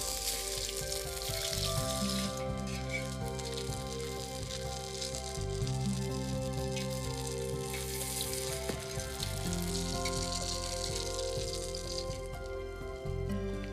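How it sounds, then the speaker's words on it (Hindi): Potato tikki sizzling on an iron tawa, a loud continuous frying crackle that lasts throughout with small shifts in intensity and no talking. "पहले जाती है टिक्की बीच में, टिक्की का मजा जो है ना वो लोहे के तवे पे ही"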